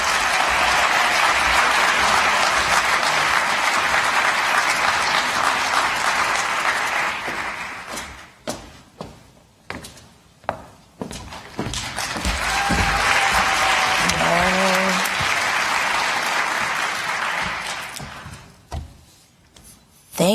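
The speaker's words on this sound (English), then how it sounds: "Please give another round of applause for Dr." A conference audience at an MLK Day celebration breaks into sustained applause for a speaker, falls quiet with scattered claps, then swells into a second long round of clapping before fading.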